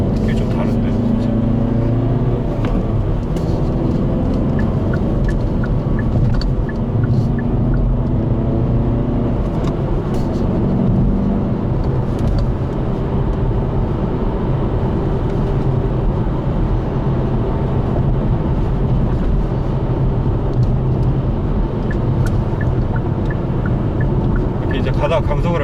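A manual Hyundai Veloster N drones steadily from inside the cabin while it slows under heel-toe braking practice, with a low continuous engine and road rumble beneath someone talking throughout.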